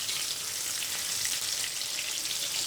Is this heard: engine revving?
no